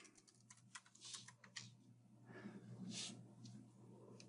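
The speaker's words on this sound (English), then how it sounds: "And we'll type the password one more time." A password typed on a computer keyboard, with quiet, irregular clicks of individual keystrokes in small clusters, faint and close over a low background hum.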